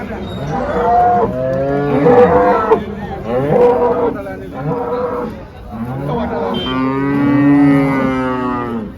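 HF cows at a cattle market in Chalisgaon give several long, loud, close moos one after another, with overlapping calls and a faint crowd murmur behind them.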